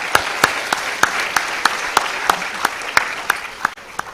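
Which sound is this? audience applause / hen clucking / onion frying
audience applause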